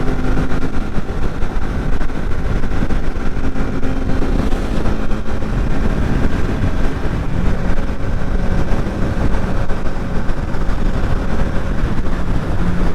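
A 2021 Kawasaki Z650 motorcycle cruising on the highway, a steady, loud engine drone mixed with heavy wind rush buffeting the microphone, continuous throughout with no talking.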